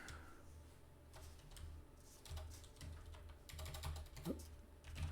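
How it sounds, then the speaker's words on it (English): Fingers tap out quick, irregular bursts on a computer keyboard, close and soft, clicks clustering more densely toward the end, with no speech over them. "Typing all over the place."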